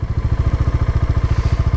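A motorcycle fitted with Maddog Scout X auxiliary lights runs with a steady, low, rapidly pulsing engine throb that stays close and even throughout.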